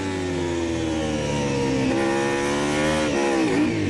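A MotoGP motorcycle engine roars loudly onboard as the rider feeds power back in on a corner exit at Qatar, a dense high-revving note with rising pitch and a brief dip near the end.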